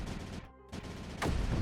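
Cannon fire in a video game: two short, heavy booming blasts roughly a second apart, the second one louder and fuller, each trailing off quickly with no voices.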